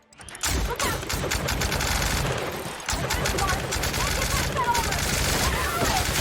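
Dense, continuous gunfire from a firefight in the video game The Outer Worlds, loud bursts and rapid shots layered over each other with a brief lull near the middle before the shooting resumes.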